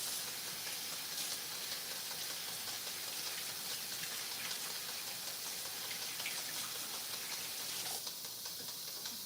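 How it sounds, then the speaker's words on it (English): Running tap water pours steadily while hands are washed beneath it, a constant bright hiss with small splashing changes, close and without talk, in a home kitchen while cooking. "I'm gonna wash my hands"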